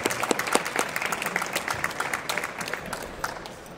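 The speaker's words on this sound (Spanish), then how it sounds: "Un fuerte aplauso." An audience at a demoscene awards ceremony claps warmly, a fairly soft, even spatter of many hands that continues steadily for several seconds and thins a little toward the close.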